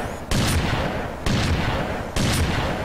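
Rifle fire in the video game Unreal 2, three heavy booming blasts evenly spaced about a second apart, each with a rumbling tail, close and loud with no speech.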